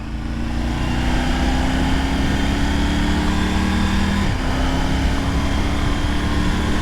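A 2023 Triumph Tiger 900 Rally Pro motorcycle engine drones steadily while riding two-up, with a loud continuous hum, buffeting wind, and a brief pitch shift as a gear changes with the quick shifter.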